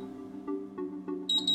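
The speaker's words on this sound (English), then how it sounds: "until a double beep sounds and the LED stays on." A Pulse security system keypad gives a quick double beep near the end, two short high electronic tones in close succession, after fainter periodic clicks over a steady low hum.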